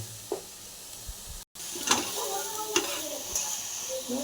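Grated carrots fry in a pan for carrot halwa. A steady sizzle runs under repeated spatula scrapes and stirring, broken by one brief silent cut.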